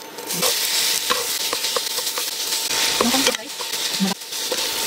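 Marinated ground chicken stir-frying with shrimp in a pan: continuous loud sizzling with scattered scraping and clicking of a utensil stirring, close-up.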